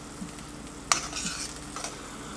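Pork lo mein in sauce is stirred in a hot pan, with a few quick scraping strokes over a soft, steady sizzle.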